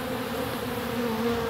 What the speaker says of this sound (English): these bees are just going at it